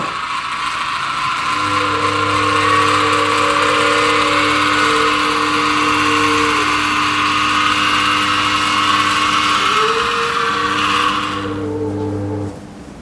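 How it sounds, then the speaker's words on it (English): A Jetwave mainline pipe inspection camera tractor unit driving out on its gyro cable, giving a steady mechanical whine with sustained motor tones and a brief pitch shift partway, running alone for about eleven seconds before cutting off. "we'll just turn on the unit, and you'll be able to see the tractor pull out"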